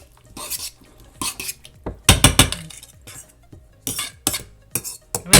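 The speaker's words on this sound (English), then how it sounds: "Mix it until it's smooth." A spoon scrapes and clinks against a bowl in bursts while tomato and peanut butter salad is stirred with water until smooth, with close, irregular clattering strokes and brief quiet pauses between them.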